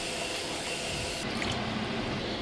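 Water poured from a can into a cooking pot of crawfish pot pie filling, a continuous splashing, gurgling stream close by, with no talking.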